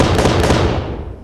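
Auto cannon shots in the video game Space Engineers, a short loud rattle of closely spaced rounds that trails off quickly into a fading rumble.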